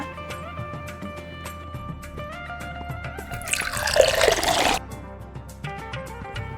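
Half a glass of water goes into a red masala paste gravy in a pan, a short splashing pour in the middle among clinks and kitchen sounds, with no talking.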